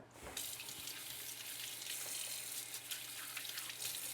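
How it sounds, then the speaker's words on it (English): Kitchen tap water running steadily into a sink while hands are washed, a continuous close splashing hiss after a brief quieter start, with no talking. "Wash my hands once more a little."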